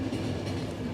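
A train runs on rails in the video game The Final Station, a steady rumbling roll with faint clickety-clack and a low hum, continuous for a brief second with no speech.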